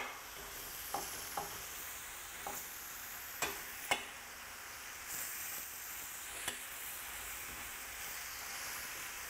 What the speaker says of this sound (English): use a spatula and just start getting everything all mixed up here together